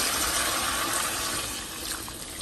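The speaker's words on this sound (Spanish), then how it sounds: "Le voy a agregar un poco de agua" Water pours steadily into a cooking pot holding six guajillo chiles, a continuous broadband gushing rush that eases slightly toward the end, with no talking.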